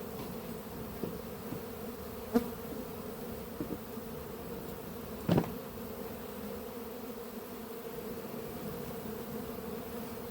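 Honey bees hum steadily around a hive at an apiary during a drone-layer shake-out, a continuous low buzz with a few brief louder passes close by.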